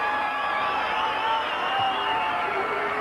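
A rugby league crowd roars steadily as the Queensland Maroons run out at a 1992 Queensland Residents test against Great Britain, a dense, sustained stadium din with faint whistles and cheers.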